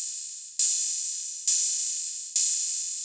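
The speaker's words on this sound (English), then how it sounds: "Open hi-hat." Three long open hi-hat hits from a Behringer RD-6 drum machine, each a bright hissy burst that rings and slowly decays before the next, evenly spaced and alone.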